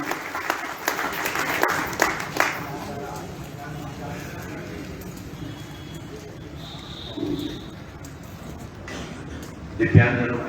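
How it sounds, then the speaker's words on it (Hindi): An auditorium crowd at a programme for people with disabilities applauds to welcome Union Minister Virendra Kumar Khatik, a dense burst of clapping for the first couple of seconds before a voice speaks over a quieter hall. "एक बार फिर जोरदार तालियां"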